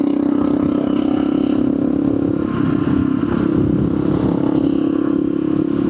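A Yamaha VMAX motorcycle engine drones loud and steady while riding, a constant low hum with wind rush across the whole stretch.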